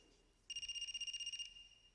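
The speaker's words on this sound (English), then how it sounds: "Is that a phone ringing?" A phone rings in the video game AI: The Somnium Files, a single rapid trilling electronic ring lasting about a second, clear and moderately loud against a quiet background.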